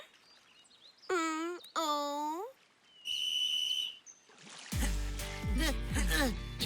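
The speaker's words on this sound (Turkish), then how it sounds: "Düdük çaldı ve yarış başladı" Two long shrill whistle blasts start a rowing race, followed by a loud burst of mixed noise and voices as activity erupts.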